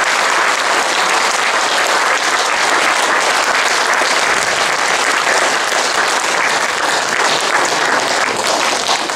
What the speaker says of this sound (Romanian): vă rog să-i aplaudăm pentru prezența și pentru participare